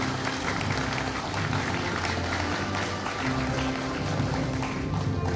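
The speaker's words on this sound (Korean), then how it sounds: "여러분 큰 박수 보내주십시오" Crowd at a political rally launch event at Kimdaejung Convention Center in Gwangju giving big applause, loud continuous clapping with a low droning tone or music running underneath.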